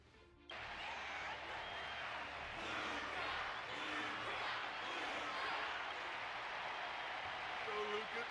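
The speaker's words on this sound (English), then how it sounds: "Their constant applause is a salute to this resilient Balabagian fight." An animated Star Rail boxing-match audience breaks into sustained applause and crowd noise after a quiet start, a dense wash of clapping continuing under occasional voices.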